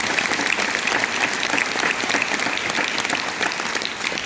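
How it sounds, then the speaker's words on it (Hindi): Loud, dense applause from a large audience fills a hall at a celebration show in Shahjahanpur, steady and sustained throughout without a break. "जोरदार तालियां"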